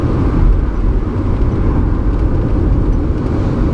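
Interior cabin drone of a small car on the move with windows up, a steady low engine and road rumble with faint whir, no talk over it.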